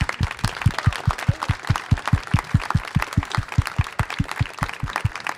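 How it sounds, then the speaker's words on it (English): An audience at a startup event gives the Prime Minister a round of applause, with strong, steady rhythmic clapping that holds an even pulse throughout and sounds fairly close and loud. "Big applause to the Prime Minister, please."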